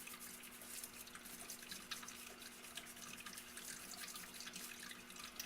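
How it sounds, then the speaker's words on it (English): Tap water runs steadily into a bathroom sink while a denture is rinsed under the stream, a continuous close hiss and splash with faint drips and no talking. "I'll get one denture out, rinse it off"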